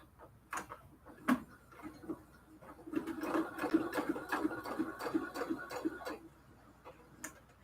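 A sewing machine stitching polyester bed sheet fabric, a short run of rapid rhythmic mechanical ticking and whirring of about three seconds between quieter isolated clicks, close and fairly faint.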